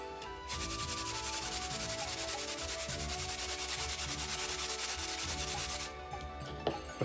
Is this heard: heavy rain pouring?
no